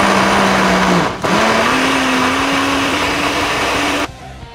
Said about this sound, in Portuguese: E agora, só pôr no liquidificador aqui.